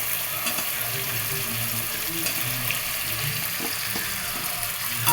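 Cut vegetables for sambar, including drumsticks, potato, carrot and bottle gourd pieces, stirred and sizzling in a pan; steady frying hiss with occasional soft scraping clicks, close and continuous.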